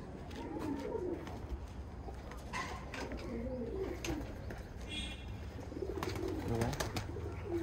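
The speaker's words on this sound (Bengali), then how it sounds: "এই যে পায়রাগুলো আমার উড়েছে" Racing pigeons at a tournament in Ankurhati, Howrah, coo softly and repeatedly at a distance. The calls are faint and low over quiet ambient noise, with no one talking.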